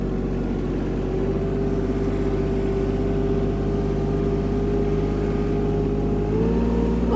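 Kubota KL-25 Japanese mini tractor turning fast, its engine droning steadily close by with a low, even hum that shifts pitch slightly as the turn finishes.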